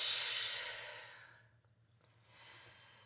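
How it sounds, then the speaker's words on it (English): A deep, slow exhale follows a full breath, a soft breathy rush that fades out, then a lighter second breath rises briefly at the end, close and alone. "take a full deep breath"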